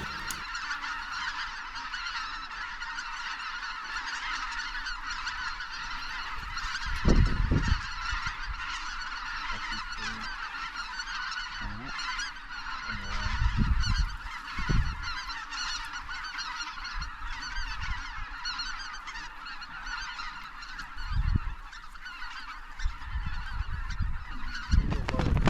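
Geese honking throughout a goose hunt in Alberta, a steady chorus of many birds calling at moderate distance, with occasional low thumps and rustles near the recorder and no talking.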